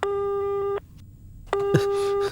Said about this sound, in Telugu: ఫోను వెళ్తుంది, లైన్ దొరుకుతుంది.